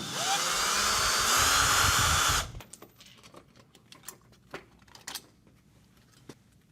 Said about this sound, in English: remove the screws holding the thermostat in place